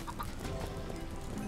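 A chicken in the Minecraft video game clucks in a short run of quick, close, fairly loud clucks with no talking over it.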